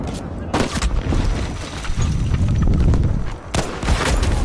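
M1 Garand rifle fire in Battlefield V, a couple of sharp loud shots standing out from a dense, rumbling battlefield din of distant explosions and gunfire, with a player talking.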